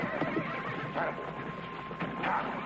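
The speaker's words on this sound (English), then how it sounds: "Hey, look, everybody. I got myself a wild horse." A horse whinnies over steady background noise, with faint hoof clatter and a low murmur nearby.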